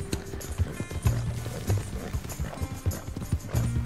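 Horse hooves clip-clop in a steady, rhythmic gait in the video game Red Dead Redemption 2, close and clear with a faint neigh mixed in.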